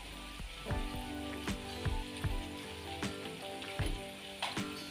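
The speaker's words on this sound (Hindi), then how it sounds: "इसी तरह हम बाकी बची पूड़ियों को भी अच्छे से फ्राई कर लेते हैं।" Wheat-flour kachori deep-frying in hot oil makes a steady, dense sizzle with scattered pops and crackles throughout, close and fairly quiet.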